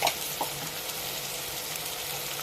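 Egg mixture with spices sautéing in a pan for an egg roll snack, a steady close sizzle with faint stirring clicks, no voices.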